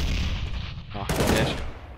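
Gunfire in Counter-Strike: Global Offensive: a quick rapid burst of shots cracks sharply about halfway through, over a muffled background of game noise.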